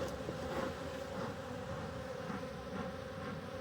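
Agitated honeybees buzzing steadily inside an opened hive during an inspection, a dense continuous drone close by with no voices.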